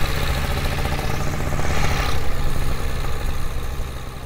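A tandem paramotor trike engine drones steadily at low throttle, a buzzing hum with wind noise, close and fairly loud, no talking.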